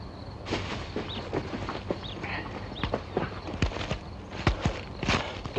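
Horses' hooves clip-clop at a walking pace, with irregular sharp knocks that rise and fall in loudness as they move nearby over a quiet outdoor backdrop.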